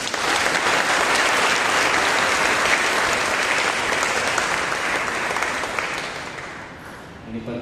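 A church congregation bursts into loud, sustained applause, a dense wash of clapping that holds steady for several seconds before tapering slightly at the end.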